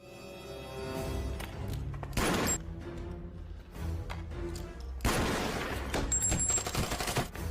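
Bursts of rapid gunfire from a film shootout crackle loudly, with a heavy volley midway and another sustained burst near the end, over a rumbling background.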